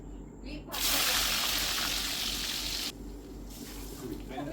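Raisins fry in hot oil for chicken dum biryani, giving a loud, bright sizzling hiss that bursts up for about two seconds and then drops to a softer crackle.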